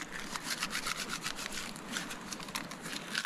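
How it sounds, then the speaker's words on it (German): Fine dry tinder being rubbed between the hands in a winter forest, a quiet rapid series of dry scratchy rustles in an even back-and-forth rhythm, close and soft, with no talking. "einfach mal ein bisschen was in die Hand nehmen und so reiben, dann kommt das feine Zeug da auch gut raus"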